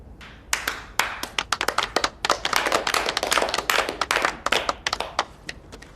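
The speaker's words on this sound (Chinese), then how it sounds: "鼓掌。" A small group claps in a meeting room, scattered hand claps building into steady applause and then tapering off, close and fairly loud with no talk over it.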